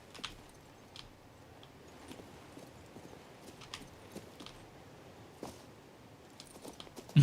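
Horse hooves clip-clop steadily in the video game King's Bounty II, a soft, quiet rhythm of hoof taps repeating alone, with a louder knock at the very end.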